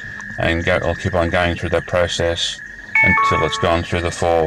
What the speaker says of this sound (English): That noise you just heard on my phone is the emergency response.